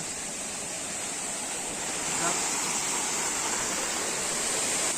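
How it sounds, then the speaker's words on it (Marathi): Steady rushing water fills the whole clip, a continuous broadband wash from a small waterfall flowing nearby near Lonavala, with no voices. "इथे छोटस धबधबा झरना वाहत आहे"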